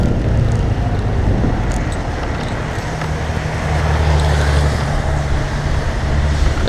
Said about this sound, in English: A lot of traffic about for Christmas Day.